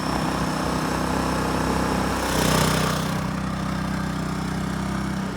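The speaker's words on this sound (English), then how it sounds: "So the compressor is going, as you can probably hear." An air conditioner compressor fitted to a semi-trailer runs in a steady, loud mechanical drone with a constant low hum, swelling briefly midway before settling back to an even running note.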